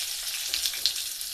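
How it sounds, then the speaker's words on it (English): Chopped tomatoes fry and sizzle in a lightly oiled pan while being stirred, a steady close hiss with soft scraping ticks and no talking. "So when you put the tomatoes, you have to keep stirring."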